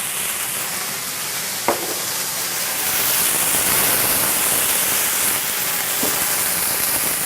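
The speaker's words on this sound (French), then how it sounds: "on va déglacer au vin blanc" A pan sizzles steadily as it is deglazed with white wine in a restaurant kitchen, a continuous frying hiss with a couple of brief clinks of utensils and no talk.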